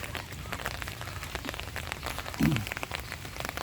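Steady rain falls on surfaces outdoors, a soft, continuous hiss and patter heard alone at a low, even level, with one brief thud partway through.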